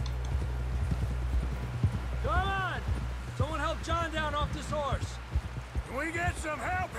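Horse hooves trudge through icy water in the Red Dead Redemption 2 video game, with steady plodding steps and splashes under overlapping voices.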